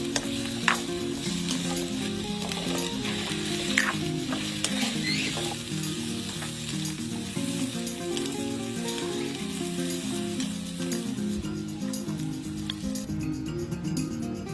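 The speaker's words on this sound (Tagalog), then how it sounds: "Magpainit ng konting mantika at i-pan fry ang patatas at carrots." Potatoes and carrots pan-frying in a little oil give a steady, crackling sizzle, with scattered spatula taps and scrapes, close and constant with a background tone running throughout.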